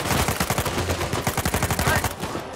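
Rapid gunshots from the video game Uncharted 4 crack out in a fast, dense string of loud, close bursts, filling the whole short stretch with fire.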